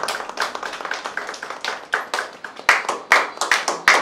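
An audience at a training graduation ceremony claps in rhythm, a close series of distinct, regular hand claps that grow louder and more spaced toward the end.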